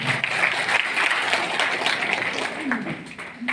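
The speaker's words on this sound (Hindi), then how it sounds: "उनका तालियों से आप लोग जरूर स्वागत करेंगे" A crowd at a Bahujan Samaj Party gathering in Delhi welcomes a guest with steady applause, a continuous rustle of clapping with a voice faintly mixed in.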